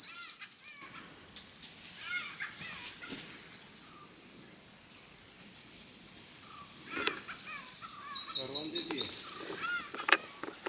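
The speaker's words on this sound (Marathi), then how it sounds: "बघा अजूनही मोर ओरडत आहेत तिकडे" Distant wailing peacock calls near a fort bastion at Dabhol, faint at first, then a louder burst of repeated cries near the end over quiet outdoor ambience.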